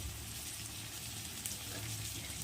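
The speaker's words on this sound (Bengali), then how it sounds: "এখন এই মশলাটা আমি ভালো করে কষিয়ে নেব" Turmeric, chili and coriander powder masala sautéing in a pan with salt, a steady soft sizzle running throughout at low level, with no talking.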